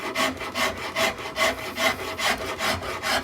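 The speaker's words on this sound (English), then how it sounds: "And then we'll just start rasping." A wood rasp shaping a carved wooden neck, scraping in steady, rhythmic back-and-forth strokes, close and fairly loud with no talking.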